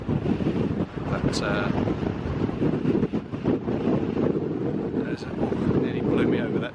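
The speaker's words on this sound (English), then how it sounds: "Hope you can hear me above the wind. It's really blowing again this morning." Strong morning wind buffets the microphone after a storm beside a parked motorhome, a loud roaring rush in gusts, while someone talks over it.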